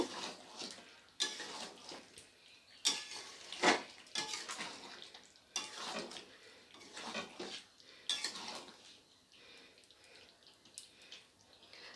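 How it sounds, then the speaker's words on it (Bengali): Chicken masala is stirred with garam masala in a pan, giving intermittent scraping and clinking of a spoon against the pan in irregular bursts, quiet and close with no talking. "গরম মশলাটা দিয়ে খুব ভালো করে নেড়ে নেব"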